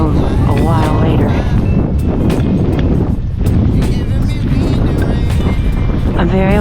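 Strong wind of 10 to 15 on a beach during a storm roars and buffets steadily and loudly across the microphone, with a voice partly buried beneath the rushing noise.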